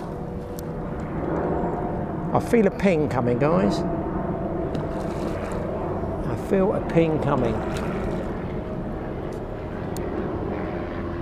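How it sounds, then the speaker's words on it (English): Aircraft overhead, a jet, a helicopter and a light plane at once above a lake, make a steady broad engine drone throughout, with someone talking over it. "There's a jet, a helicopter and a light aircraft all over the top of me up there."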